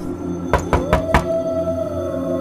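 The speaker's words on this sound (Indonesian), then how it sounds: "Suara ketukan pintu dari luar." Knocking on a hotel room door from outside: four sharp, evenly spaced raps close together, heard from inside the room against a steady low hum.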